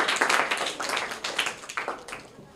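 An audience of schoolchildren gives loud, vigorous applause for a student who answered a quiz question correctly, a close burst of many hands that swells briefly and then tapers off.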